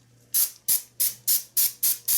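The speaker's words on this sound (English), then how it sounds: "using a little bit of brake cleaner, I'm just going to spray down the gasket surface" Seven short, sharp bursts of brake cleaner spraying from an aerosol can onto a gasket surface, hissing in a steady rhythm close to the microphone, with brief silences between them.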